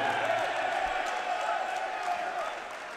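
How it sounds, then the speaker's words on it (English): A boxing-hall crowd roars in a steady, sustained cheer as boxer Davis Pagan, from Basildon, enters the ring, with a broad wash of voices and scattered whoops and clapping throughout, an announcer's voice carrying over it. "Big cheer for the boy from Basildon"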